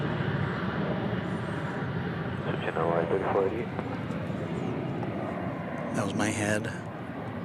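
A plane moves near the west-side hangar area at DFW Airport, its steady, broad engine roar running throughout. Someone talks over the noise in a few short bursts.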